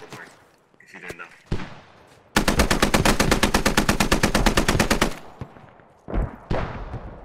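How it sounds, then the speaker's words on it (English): Sustained automatic gunfire in Squad, a 100-player military shooter, bursting in loud and close as one continuous stream of rapid rounds lasting about three seconds, with quieter scattered shots and distant firing before and after it. "Hey, we're getting shot like east."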